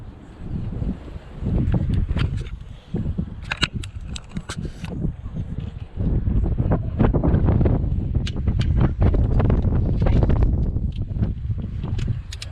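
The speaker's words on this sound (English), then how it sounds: "It's slightly windy today, so hoping you can see and hear well." Steady wind buffets the microphone throughout during an oil cooler replacement on a 2010 Astra J 1.8 petrol, a low rumbling roar with scattered clicks and handling knocks over it.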